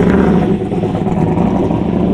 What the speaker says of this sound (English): Let's see if we can get an exhaust note this time.